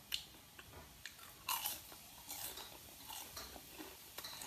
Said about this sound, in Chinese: 你们听着这小动静， 稀疏崩碎。